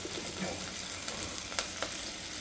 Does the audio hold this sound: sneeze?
no